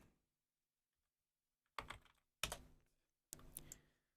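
A computer keyboard is typed on in three short, close bursts of rapid key clicks separated by quiet pauses, with no talking.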